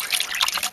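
Water is stirred by hand with a stick in a container, brewing vermicast tea with honey mixed in; close, uneven sloshing and dribbling splashes come in short surges.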